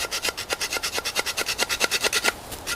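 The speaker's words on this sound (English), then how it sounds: "So I'm going to cut this piece off here" A saw cuts through a piece of bamboo in quick, even rasping strokes, about a dozen back-and-forth pulls, close and clear with no talking.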